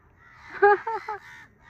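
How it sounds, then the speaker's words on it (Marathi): Several crows perched in a tree at a villa give three loud, close caws in quick succession, the first the longest, then the calls fade. "सगळे कावळे ह्या झाडावर येऊन बसलेत."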